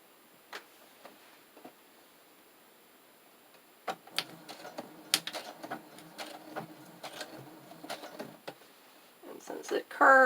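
A sewing machine stitches through a paper journal cover in short bursts of rapid mechanical ticking, stopping and starting as the paper is turned along a curve, with talking throughout.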